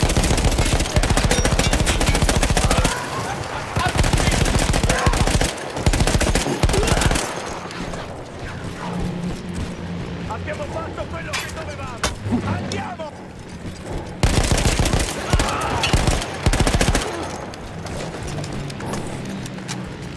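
A mounted machine gun in the World War I Italian Alps campaign of Battlefield 1 fires long, loud rapid bursts, pausing between volleys while distant battle noise and scattered shots continue.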